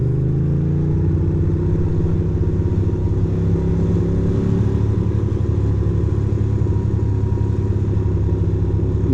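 Motorcycle rolling slowly through New York City streets, a steady, close, low engine rumble with a mild rise and fall in pitch and no talk.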